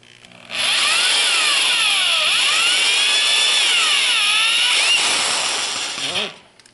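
Power drill with a bit boring into cast iron during a crack repair, a loud steady whine with sweeping pitch bends as the bit loads and eases, running about five seconds alone before cutting off.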